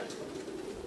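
Racing pigeons arriving at a loft, with a soft, low cooing from nearby birds, steady and continuous over a faint background.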